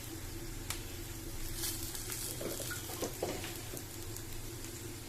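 Okra (bhindi) sautéing in a pan for masala bhindi, a steady soft sizzle with occasional spatula scrapes and stirring clinks, close and continuous with no talking.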